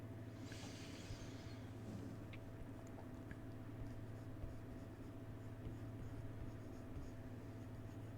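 A pencil or pen scratches across paper in short faint strokes, hand drawing over a low steady hum of background noise.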